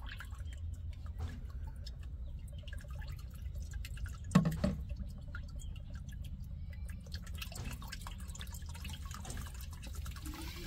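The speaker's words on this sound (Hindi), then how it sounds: "दवा डाला जा रहा है, अभी एकदम हरा है दवा" Liquid pesticide pours and drips into a water tank for spraying around a new house, a few soft splashes and a brief louder gurgle over a steady low background hum.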